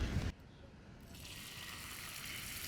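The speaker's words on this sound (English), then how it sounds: "We got a bit of olive oil." Olive oil hitting a hot pan on a wood-burning camp stove outdoors, a soft, steady sizzle and hiss that begins after a brief louder thump and stays faint and even.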